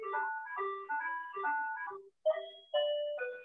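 A landline phone plays a melodic electronic ringtone, short tuneful phrases repeating with brief pauses, fairly quiet and alone.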